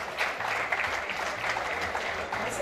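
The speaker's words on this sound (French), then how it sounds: "Merci de l'encourager par vos applaudissements." Audience applause at a diaspora evening event fills the space as a continuous, even wash of many hands clapping, moderately loud and without a break.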